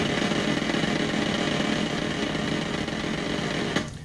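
A snare-style drum roll is played with sticks as a dense, even buzz that holds steady and then cuts off near the end.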